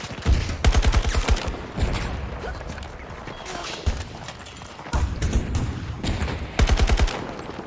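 Gunfire in Battlefield 2042, including an NTW rifle, comes in several loud, sharp bursts of rapid shots separated by quieter stretches of game noise.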